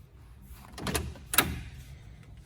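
Two close mechanical clunks about half a second apart, a 1984 Jeep CJ7 door latch releasing and the door swinging open, over faint background hum.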